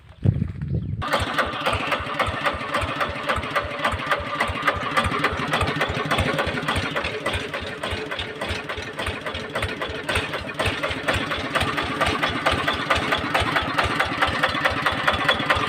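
A Magnum tractor diesel engine starts up after a brief quiet moment, then runs with a steady, loud rhythmic chugging idle close by for the rest of the time.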